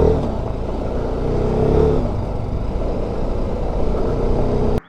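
A TVS Apache RR 310 motorcycle is ridden on a road near Mandi, its engine droning steadily with heavy wind rush and rumble throughout, then cutting off abruptly.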